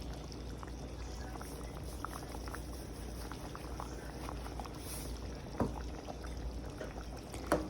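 Curry seasoned with garlic powder and salt simmering in a pan, a soft steady bubbling with small pops and a couple of brief louder clinks, heard alone.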